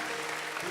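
A church congregation claps in a steady, dense patter during a worship service, fairly quiet and brief, with no voice heard over it.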